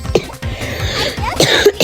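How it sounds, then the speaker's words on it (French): A few harsh coughs and throat-clearing sounds, close and fairly loud, with no talking around them. "J'ai un peu la toux."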